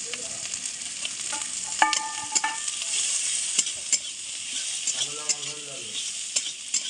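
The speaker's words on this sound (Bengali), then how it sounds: "তো আমাদের পেঁয়াজটা ভাজা ভাজা হয়ে গেছে" Chopped onions fry in a pan for egg and masoor lentil dal, a steady close sizzle with repeated scraping stirs from a spatula against the pan.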